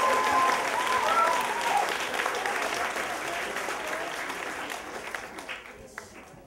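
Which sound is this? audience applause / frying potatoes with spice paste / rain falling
audience applause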